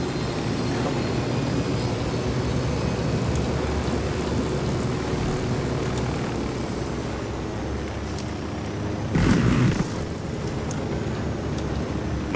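A helicopter flying in the video game Tom Clancy's Ghost Recon Wildlands, a steady loud engine and rotor drone filling the whole stretch, with a brief louder burst near the end.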